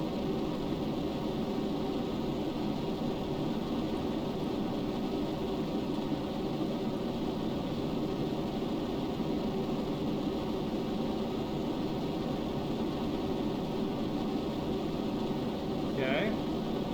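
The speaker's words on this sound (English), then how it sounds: "the game makes air breathing engines super loud." Air-breathing jet engines roar on a space plane in Kerbal Space Program, a loud, steady, unbroken broadband drone that holds for the whole stretch, close and dense.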